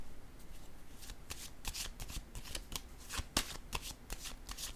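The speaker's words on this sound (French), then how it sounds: "Je vais déposer une carte sur l'amour." A deck of playing cards riffled and shuffled in a tarot-style reading, with a card then laid down; crisp repeated snapping bursts, close and fairly quiet, with no talking.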